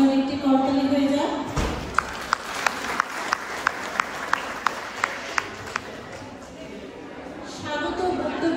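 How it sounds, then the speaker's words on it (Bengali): Audience at a ten-year anniversary celebration breaking into applause after a speaker's remarks, a burst of clapping from a crowd in a hall that swells then fades, with some talk before and after. "আসুন সবাই মিলে আবার জন্য একটি করতালি হয়ে যায়।"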